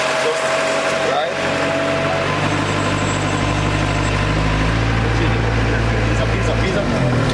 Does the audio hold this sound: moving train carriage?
no